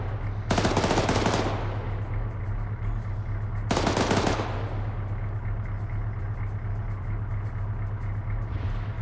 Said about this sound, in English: Blue 4 is firing up at their own dudes